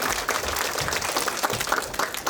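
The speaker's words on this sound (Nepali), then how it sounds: "सम्पूर्ण दाता र सहयोगीहरूलाई एकचोटि जोरदार तालीले धन्यवाद भन्ने अनुरोध।" Audience applause at a dance center's annual day event, a steady, dense crowd clapping that fills the whole span without pause, heard fairly close in an indoor hall.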